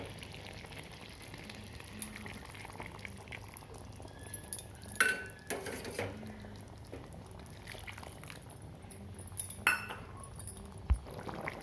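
A lid is set on a pot of country chicken curry with kohlrabi, simmering in hot water, giving a few distinct clinks and knocks over a quiet bubbling.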